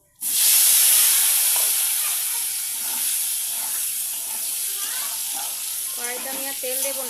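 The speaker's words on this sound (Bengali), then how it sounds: "এবার এই তেলেই আলুগুলো ভেজে নেব।" Potatoes hit hot oil left over from frying eggs in a kadai, setting off a sudden loud hissing sizzle that settles into a steady, slightly quieter crackle with a few clinks near the end.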